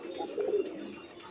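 Short-faced fancy pigeons on a large mixed farm in Kerala coo softly in a brief, low burst of a few close murmuring notes.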